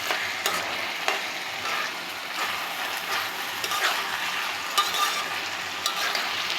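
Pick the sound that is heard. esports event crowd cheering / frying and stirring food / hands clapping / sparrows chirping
frying and stirring food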